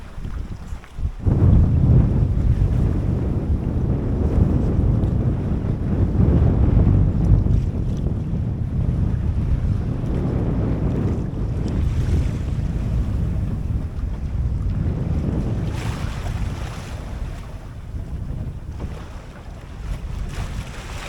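Strong wind roars steadily across the microphone while ocean waves wash and slap against the hull of a 21-foot junk-rig sailboat, with gusts swelling and easing in a continuous rush.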